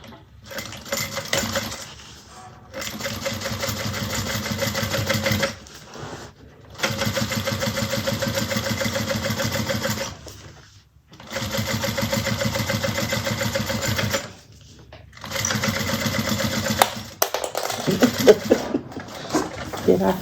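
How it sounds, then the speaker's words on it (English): A sewing machine top-stitches a seam on a convertible bag in long steady runs of rapid needle chatter separated by brief pauses, with some handling noise at the end. "so let's get ready to top stitch"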